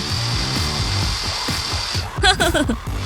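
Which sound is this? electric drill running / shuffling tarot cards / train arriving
electric drill running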